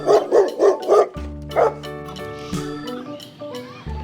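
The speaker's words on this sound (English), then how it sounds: "Dog. This is dog." A dog barks five times in a quick, close, loud series at the start. Sustained musical tones follow the barks.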